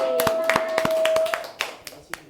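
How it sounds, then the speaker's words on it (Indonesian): Students in a classroom clap for themselves, a loose burst of sharp hand claps with a tone and voices mixed in, thinning to a few scattered claps toward the end. "Tepuk tangan dong untuk diri sendiri."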